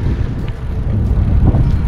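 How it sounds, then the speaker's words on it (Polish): Strong hot wind roars against the microphone in a dense, low rumble that stays loud and constant throughout, on a 33-degree day. "Wiatr raz jak wieje, tak jak suszarki, gorące podmuchy."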